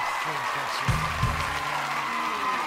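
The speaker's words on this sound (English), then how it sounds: "Round of applause, ladies and gentlemen." An audience applauds to welcome the host of a livestreamed podcast show. The clapping is a soft, steady wash of moderate loudness that lasts the whole short stretch, with a couple of faint low thumps.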